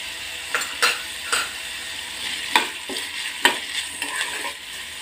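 Carrot strips and green chillies with salt sauté in a pan, stirred in a series of scraping, clattering strokes over a soft, steady sizzle.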